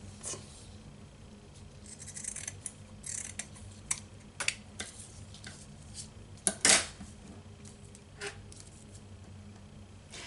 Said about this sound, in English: take some of this burlap, and I'm just going to cut a little square to put on the front